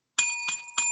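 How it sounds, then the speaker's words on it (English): A bell chimes three times in steady succession to mark the end of a podcast segment, each strike bright and ringing with a sustained tone that carries into the next, close and clear against silence. "there is the bell, and that signifies the end of the three-way dance"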